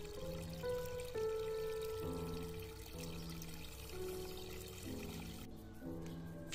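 Water pours steadily onto the roots of a garden plant, a continuous close splashing trickle laid over sustained tonal music throughout, with no one speaking.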